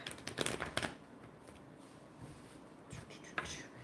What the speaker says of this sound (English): Let me get these cards shuffled back into the deck.